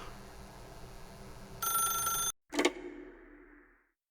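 Telephone in a video game ringing: a short burst of bright electronic ringing, then a brief gap, then a sharp clunk that fades away, like a receiver being lifted. No voices.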